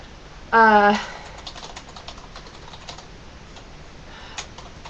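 Quick typing of a short note on a keyboard: a brief vocal sound, then a run of light, soft key taps, close by but faint, with no talking.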